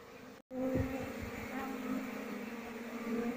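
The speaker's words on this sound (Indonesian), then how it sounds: "Amati pergerakan koloni lebah ini" A low, steady drone of a bee colony buzzing up close in a speaker box, continuous after a brief cutout at the start.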